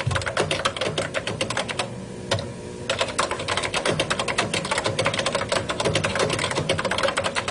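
Steady, rapid typing on an Apple Lisa computer keyboard, close and continuous with a brief pause partway through.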